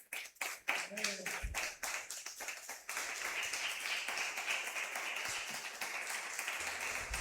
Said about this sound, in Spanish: qué no le damos un aplauso a nuestro Señor y Salvador Jesucristo?